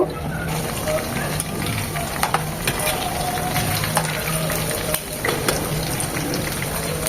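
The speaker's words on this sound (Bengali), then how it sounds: "একদম ডিপ ফ্রাই করবো পুরোপুরি এখানে ভেজে নেব যেন এখানে চিকেনটা একদম হয়ে যায়" Garlic sausage chicken pieces deep-frying in hot oil, a steady close sizzle and crackle that runs throughout with occasional sharper pops and spatters.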